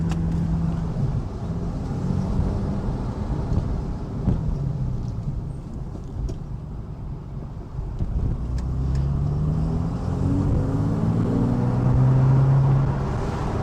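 A 991.1 Porsche 911 Carrera 2S, rear-wheel drive with about 400 horsepower and an Akrapovic titanium slip-on exhaust, drones steadily while driving. A low engine rumble rises and falls throughout.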